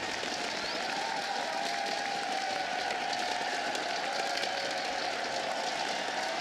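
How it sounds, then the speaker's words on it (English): A large arena crowd at a CS:GO esports match cheers and applauds in a continuous, loud roar that holds steady throughout, with no break. "Crowd goes wild for the chicken."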